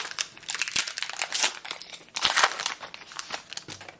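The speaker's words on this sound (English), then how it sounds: "So let's open the booster pack" A Disney Lorcana trading card booster pack's foil wrapper being crinkled and torn open, close and loud, with bursts of crackling plastic and a sharper tearing rip midway, no speech.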